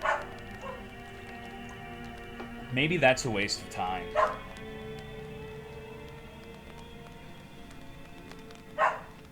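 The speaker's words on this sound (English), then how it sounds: "Sorry for my belligerent dog." A dog barks and yips several times in a short burst, fairly near, partly under someone talking, with one more bark near the end.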